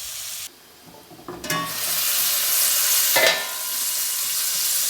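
Carrots sauté in a pot for carrot stew, a bright steady sizzle that cuts in after a brief lull, with scraping stirs and clinks of a utensil against the pot, close and loud, no talking.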